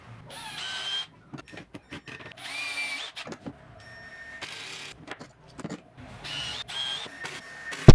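A power drill pre-drills clamped teak wood (Dutch teak) and drives screws into a photobox frame. It runs in short whirring bursts with pauses between them, close by, with small clicks and handling noise in the gaps.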